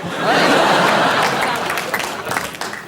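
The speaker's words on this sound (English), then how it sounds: "Please don't feel like you all have to clap when just one person does." A television studio audience on a comedy panel show bursts into loud clapping mixed with laughter, dense and sustained before thinning out, with voices underneath.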